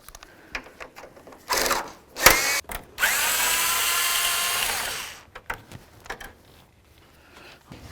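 A power tool drives out the mounting bolts holding the plastic grille assembly on a 1992-99 GMC K1500 pickup, with short bursts followed by a steady whirring run of about two seconds, then quiet handling noises.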